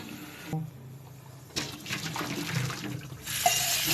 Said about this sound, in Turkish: Artık çeşmeyi açıp duracağız.